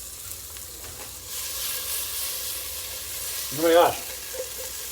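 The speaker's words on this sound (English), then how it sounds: "You just dump the onions in, mix it around, cook it until it's lightly brown." Battered onion rings fry in hot oil with a steady, close sizzle and crackle, a short burst of a woman's excited exclamation rising over it near the end.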